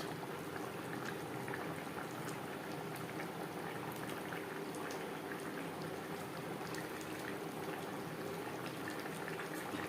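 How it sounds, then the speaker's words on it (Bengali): Gravy for a chitol fish curry with potato and cauliflower bubbles at a steady simmer in a pot, a dense continuous burble of popping bubbles, fairly faint and uninterrupted. "গ্রেভি ফুটে ওঠা পর্যন্ত অপেক্ষা করব।"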